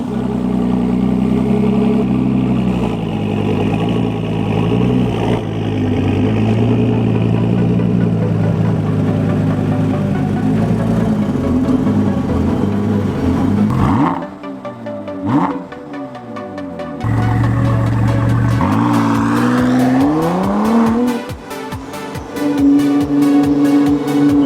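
The engine of a 2018 Ford GT supercar drones loudly and steadily while it drives to a dyno shop, with a brief drop and several rising revs and gear changes partway through.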